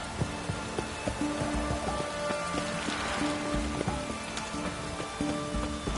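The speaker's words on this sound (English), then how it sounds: "Looks like rain." Steady rain in The Witcher 3: Hearts of Stone patters on a surface, a dense, even hiss of drops with scattered louder taps, no voices.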